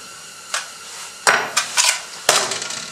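A brass drift tapped by a hammer drives a flanged roll pin into a rifle's bolt stop, giving several light, sharp metallic taps at irregular intervals close up.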